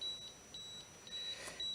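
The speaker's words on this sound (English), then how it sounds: "And the beep is too noisy" A portable, older Microlight ML830 Class 3b cold laser unit beeping: a faint, steady high-pitched tone repeating with short gaps, alone with no talk.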